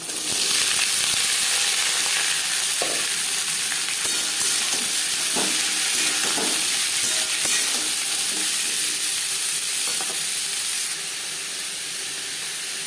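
Potatoes dropped into hot oil with black cumin and chili and stirred in a pan, making a loud, constant sizzle and hiss with scattered stirring knocks that eases slightly near the end.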